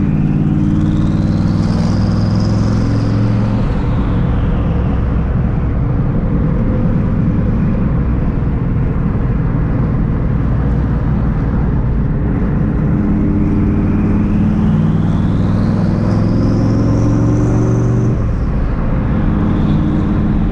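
A 900-horsepower turbocharged SVT Cobra drives past loudly, its engine droning low with two rising whistle-like sweeps as it accelerates, continuous and close throughout.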